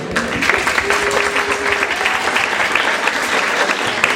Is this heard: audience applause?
yes